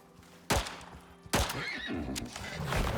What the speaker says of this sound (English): horse is coming, isn't it?